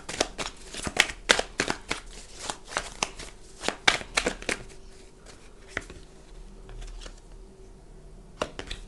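Tarot cards shuffled by hand in a quiet room, a run of crisp riffling snaps and slaps packed tightly early on, then thinning to occasional sharp flicks against a faint steady hum.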